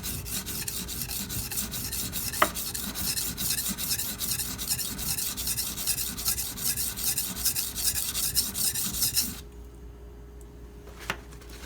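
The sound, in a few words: kitchen knife being ground on a sharpening stone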